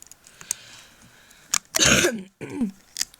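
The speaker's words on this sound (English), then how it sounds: "I still have a little bit of a cough" A close, harsh throat-clearing cough in two bursts, the first longer and rougher, preceded by a few faint clicks and breaths.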